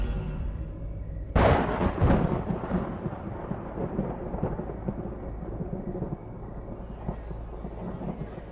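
Thunder from an approaching storm rumbles in with a sharp crack, then rolls on as a loud, sustained low roar that gradually eases over several seconds, with no voices.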